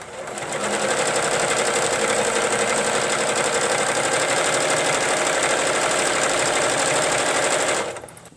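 A sewing machine runs steadily for about seven seconds during free-motion quilting of a butterfly pillow, stitching at a constant fast rattle up close before stopping.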